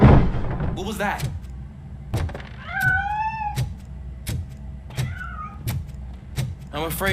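A cat meows repeatedly in Robocop: Rogue City, several drawn-out rising and falling cries spaced between sharp metallic footsteps and thuds, fairly close and clear, with someone speaking at points.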